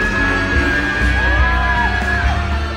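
A large crowd at a Korean celebrity event roars continuously with screams, yells and cheers, loud and sustained throughout, with a high pitched shriek rising and falling above the din.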